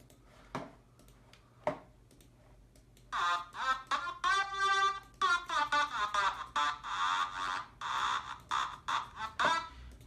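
A mid-range synth layer from a dance track plays a choppy, rhythmic pattern of short stabs, preceded by a few faint ticks and quiet hum before the stabs start a few seconds in.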